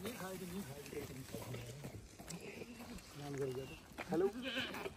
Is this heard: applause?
no